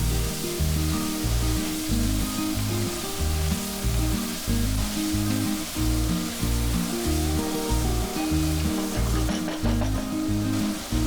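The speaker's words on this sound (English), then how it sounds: "add half tablespoon garam masala powder, 1 tablespoon lemon juice, and fry it for about 2 minutes" Beef curry masala with garam masala powder and lemon juice fries in a pan, a close, steady sizzle under a low rhythmic pulsing hum that runs throughout.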